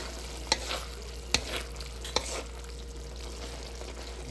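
Hotdogs sizzle steadily in a frying pan while a utensil stirs them, with a few sharp scraping clacks against the pan over the continuous close frying hiss.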